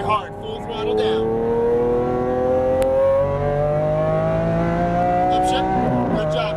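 A Lamborghini Aventador accelerates hard at full throttle, its engine note climbing steadily in pitch as it pulls through one gear before a brief dip near the end, loud and close, with an instructor's voice speaking over it.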